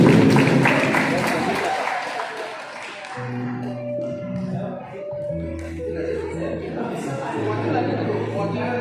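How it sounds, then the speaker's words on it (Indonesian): Audience applause at a farewell event for the head of the Buton Utara statistics office rises briefly, then fades over the first few seconds as steady tonal music takes over. "Kita beri tepuk tangan yang kedua."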